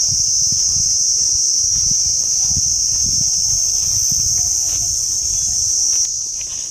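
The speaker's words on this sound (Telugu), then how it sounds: "కీచురాళ్ళు కీచుపెట్టలు ఏవో అంటారు కదా, అదే సౌండ్." Crickets chirp in a steady, shrill, unbroken drone near Vijay Vilas Palace by Mandvi beach in Gujarat, constant and prominent, with soft footstep-like thuds and rustling beneath it.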